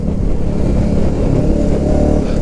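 A motorcycle carrying roughly 10 kg of load on the back revs its engine, producing a steady, loud, close mid-pitched drone throughout with no talking.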